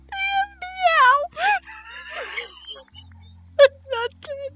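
A person imitates a cat with a drawn-out, wavering meow, followed later by two shorter meow-like calls, loud and close, with other voices talking around it in a playful home setting.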